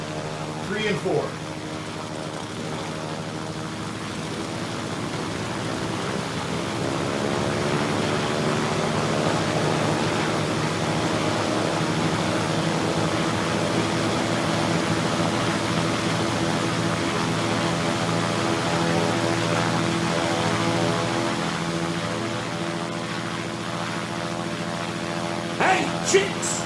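Engines three and four of a B-17 bomber, apparently a plastic scale model, drone steadily with layered propeller hum and airy noise, swelling slightly mid-clip, with a brief voice near the start and end.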